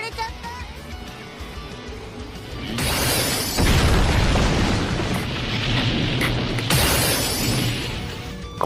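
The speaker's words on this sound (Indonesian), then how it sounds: "Goku dan juga Vegeta berhasil selamat dari ledakan dahsyat milik Jiren" Huge explosion from Jiren's attack in the Dragon Ball anime, a loud roaring blast that surges in and rumbles on for several seconds with a second crashing swell near the end.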